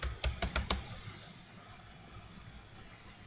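Five quick keystrokes on a computer keyboard tap out a short message, crisp and close, followed by near silence with a couple of faint stray taps.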